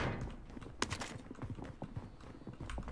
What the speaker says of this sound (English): your fucking footsteps are so loud